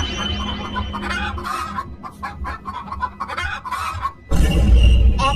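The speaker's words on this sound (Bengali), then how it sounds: "এক রাতে বুড়ির মুরগিগুলার আওয়াজে ঘুম ভেঙে গেল" At night a cartoon flock of an old woman's hens cluck in agitated bursts, overlapping and loud, before a sudden louder rush of noise at the end.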